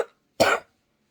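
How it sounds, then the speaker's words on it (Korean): A single short cough, close and fairly clear, preceded by a faint trailing sound and followed by silence. "아유 진짜 기침한 거예요."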